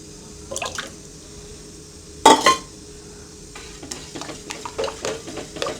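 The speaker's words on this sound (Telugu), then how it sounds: "పెరుగు వేసిన తర్వాత బాగా కలుపుకోవాలండి" Curd mixture being stirred into ragi porridge in a pot off the stove, a soft wet scraping and sloshing with one louder clank of spoon against the pot, then gentle repeated strokes.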